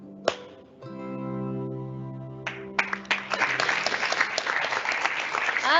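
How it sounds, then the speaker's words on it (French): Audience applause at an award ceremony, preceded by a sustained musical chord, then a burst of dense, loud clapping from a large crowd that fills the last three seconds. "Ah, ça fait du bien des applaudissements"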